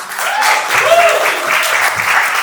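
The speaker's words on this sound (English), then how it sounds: "Let's give him a round of applause." Audience at a startup pitch event applauding before a presenter begins, loud close steady clapping from many hands with a voice briefly audible over it.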